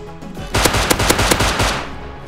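A loud, rapid burst of automatic gunfire in the survival game Rust during a clan base raid, about ten close shots in quick succession before trailing off.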